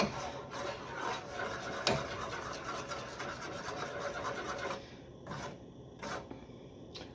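A spoon stirs peanut butter fudge mixture with melting butter in a pot, making a continuous soft scraping and rubbing with one sharp clink, the sound thinning toward the end.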